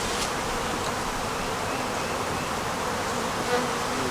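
Honey bees swarm around a hive frame in a yard, giving a steady, dense buzz that fills the clip at close range, with no voices.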